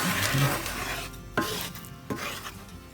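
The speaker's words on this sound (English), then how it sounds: "Stir in that roux, Cher." A gumbo pot with the roux being stirred in, heard as close rasping stir strokes over a faint sizzle, with two or three sharper scrapes of the spoon against the pot.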